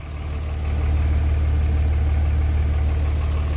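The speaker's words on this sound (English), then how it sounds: "I just hit the throttle a little bit and it's like, man, it just wants to go" A Cummins diesel truck engine swells slightly at the start, then holds a loud, steady, deep idle with a heavy low rumble and no voices over it.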